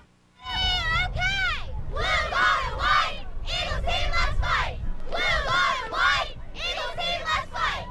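A high school football crowd at the 2008 Philadelphia city championship between George Washington and La Salle cheers and chants loudly in rhythmic, rising bursts, close and sustained with short gaps.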